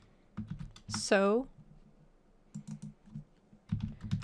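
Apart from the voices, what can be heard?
typing on a computer keyboard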